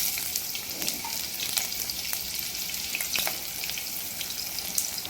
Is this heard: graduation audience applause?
no